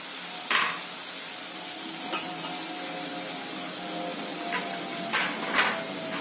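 Chunks of jackfruit and potato fry in hot spiced oil, giving a steady, even sizzle, broken by a few faint clinks of a spoon stirring against the pan.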